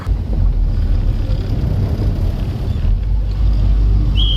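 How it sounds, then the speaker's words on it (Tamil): Steady, loud wind rumbling and buffeting outdoors, a continuous low roar with no pauses and no voices. "நல்லா காற்று அடிக்குது"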